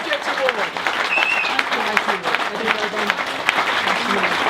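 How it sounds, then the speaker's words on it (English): An audience at a National Parks volunteer awards ceremony applauds the project award winners, with lively, fairly loud clapping mixed with scattered voices and cheers throughout. "Can we have a massive round of applause, please, for the winners of our project award?"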